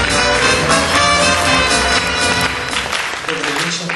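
Audience applause fills a theatre during an anniversary celebration, a steady, dense roar of clapping that stays loud throughout and eases slightly toward the end, with some voices mixed in.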